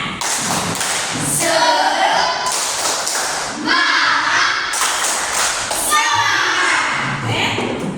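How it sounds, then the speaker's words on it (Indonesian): Children in a classroom perform a rhythmic group clapping chant, bursts of clapping and thumps mixed with their chanting voices and an adult speaking, loud and close. "Tepuk semangat."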